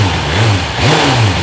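A BMW M1000R motorcycle engine in road mode revving with softer throttle response, rising and falling through two smooth swells over a steady mechanical drone, loud and close.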